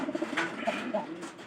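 Nearby pigeon coos in soft, repeated throaty calls, close to the listener with no speech over it.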